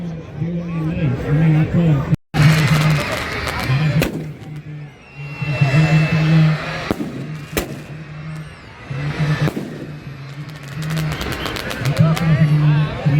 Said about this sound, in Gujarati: આ પ્રકારે મિત્રો કંઈક આતિશબાજી થઈ રહી છે અત્યારે હાલમાં